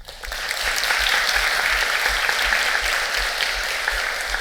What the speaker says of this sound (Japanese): Python が一番遅くて次が Ruby で Perl が一番早いという答えだと思う方は拍手をお願いします